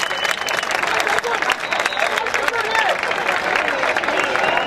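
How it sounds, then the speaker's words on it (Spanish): An audience applauds steadily at the presentation of the new AD Alcorcón football kits, a dense, even wash of clapping from a crowd with a faint murmur of voices under it. "también un aplauso para ella"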